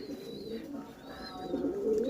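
A large male fancy pigeon coos close by, a low throaty rolling call that swells and repeats over about two seconds, with no one speaking.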